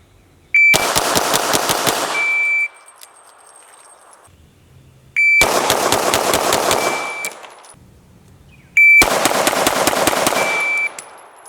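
Three rapid bursts of handgun fire in a seven-round cadence drill at 3 yards, each a tight string of sharp, loud shots lasting about two seconds, set off by a timer beep, with quiet pauses between strings.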